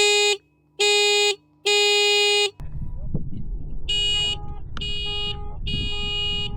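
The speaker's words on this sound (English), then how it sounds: "Yeah, this is a nice horn." A Pidzoom FH60 finger horn on an e-bike sounds three loud, evenly spaced electronic beeps up close, then after a shift to outdoor noise, three more blasts sound from farther off over wind and traffic rumble.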